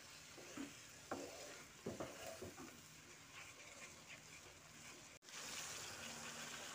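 Spice paste for a potato curry (aloo dum) is stirred and fried in a pan. A soft, steady sizzle runs throughout, with a few scraping stirs and a brief clatter and a louder hiss near the end.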